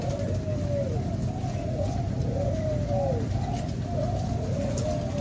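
Repeated soft coos from caught birds rise and fall in a steady rhythm, continuous background noise underneath, no talking.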